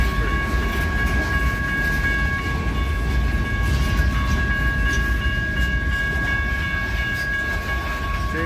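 A train rolls past on the Portland Western Railroad about 300 yards away, a continuous low rumble of wheels on track with steady tonal ringing above it, holding loud and even throughout.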